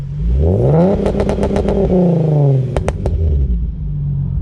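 A tuned Hyundai Genesis Coupe revs in park, bouncing off a 4,000 RPM limiter with a loud, close, droning exhaust note and a rapid run of sharp crackling pops.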